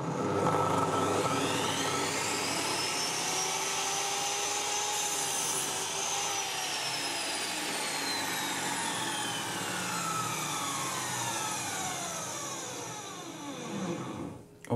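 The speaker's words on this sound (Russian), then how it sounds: "Пробуем диск на торцовке." A miter saw fitted with a Procut blade cuts through pine, giving a loud, steady whine with shifting tones that holds for nearly the whole stretch and then drops away as the blade spins down near the end.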